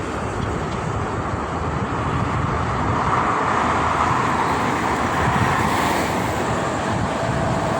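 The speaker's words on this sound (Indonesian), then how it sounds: "Pagi ini sangat lancar sekali ya untuk arus lalu lintasnya" Morning traffic flowing freely on the Cikampek toll road, dominated by goods trucks, a continuous loud roadway roar with passing vehicles swelling midway, mixed with rain and wind, and no talking.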